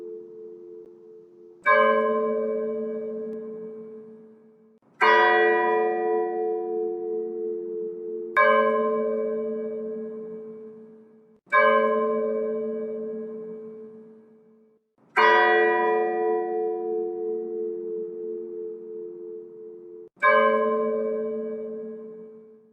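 A church bell tolls slowly and steadily, six resonant strikes each ringing out and decaying before the next, with no other sound around it.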